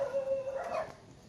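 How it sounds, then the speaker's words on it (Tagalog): A single dog howls in a long, steady, mournful note that wavers and fades out, fairly close by, with no talking. "Aso lang ang sumasagot."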